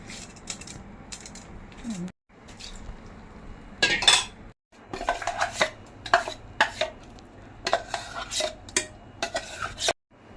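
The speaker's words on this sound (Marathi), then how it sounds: "हे आपण मिक्स करूया डाळ आणि तांदूळ" Soaked dal and rice are stirred together in a metal pot for Konkan-style amboli, with scraping spoon clatters and soft wet shuffling in irregular bursts close by, separated by brief pauses.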